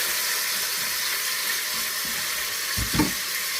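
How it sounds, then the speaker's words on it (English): Continuous hissing sizzle of chicken skins sautéing in an Instant Pot, with a couple of soft scraping thumps near the end as they are scraped off the bottom. "while it's still sauteing, I'm going to go ahead and scrape the chicken skins off the bottom"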